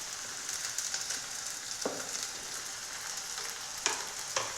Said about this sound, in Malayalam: അപ്പോൾ ചൂടായ വെളിച്ചെണ്ണയിലേക്ക് നമ്മൾക്ക് ഈ സവാള മുറിച്ചത് ഇട്ട് കൊടുക്കാം.